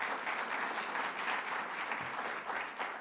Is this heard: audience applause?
yes